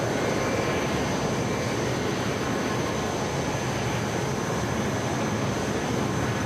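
A BAE Hawk jet engine runs at full throttle in Microsoft Flight Simulator, giving a loud, steady roar with a high whine that holds constant throughout.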